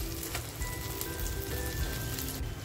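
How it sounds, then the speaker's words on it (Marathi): Pomfret fish fries in a pan with a dense, continuous close sizzle and crackle that stays even throughout, with no talking. "बघा आपली मच्छी छान अशी फ्राय झालेली आहे, दोन्ही बाजूनी व्यवस्थित अगदी फ्राय करून घेतली आहे"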